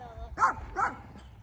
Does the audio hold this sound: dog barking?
yes